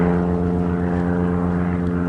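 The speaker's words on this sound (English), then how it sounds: "I can hear a pontoon plane taking off" A pontoon floatplane takes off near a northshore waterway, its propeller engine giving a steady, loud droning hum with strong harmonic tones held throughout, no voices.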